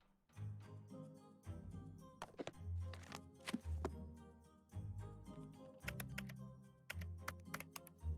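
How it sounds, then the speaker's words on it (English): Keyboard typing in the Nancy Drew: The Deadly Device computer game, heard as clustered clicky key taps alongside low thumps in an irregular stop-start rhythm, close and fairly clear, with no talking. "game has a lot of typing"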